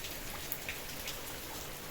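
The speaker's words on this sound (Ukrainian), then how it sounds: "Який дощ." Steady rain falling outside during a long-awaited spring shower, a dense even hiss of drops on surfaces with a few brighter patters, no voices.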